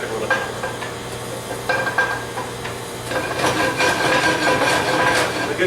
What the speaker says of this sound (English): One of the key things to searing meat is you want to make sure that your pan is hot enough.